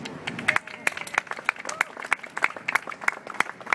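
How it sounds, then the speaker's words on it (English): Scattered applause from a small audience at an outdoor city scooter parking launch in Boston, sharp individual claps in an uneven rhythm, fairly close, with a voice briefly heard. "So, big applause."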